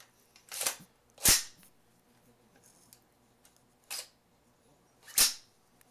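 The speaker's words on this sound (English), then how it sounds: "I'm going to throw in this mag of the dummy rounds, and I'm going to rack it" An AR-10 rifle racked with dummy rounds in the magazine, four sharp metallic clacks spread over several seconds, close and loud against near silence.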